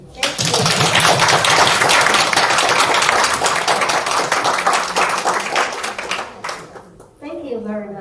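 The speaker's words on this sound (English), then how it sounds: "Let's give him a round of applause" Dense, loud applause from an audience at an annual general meeting fills most of the stretch after a speech, then fades out as a voice begins talking near the end.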